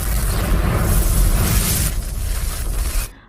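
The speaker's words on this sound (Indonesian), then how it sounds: "Ledakan pun terjadi dan mengenai dua anggota yang di dekatnya itu" A drone strike explosion from the film Outside the Wire (2021) is a loud, dense, rumbling blast that roars for about three seconds and then cuts off abruptly.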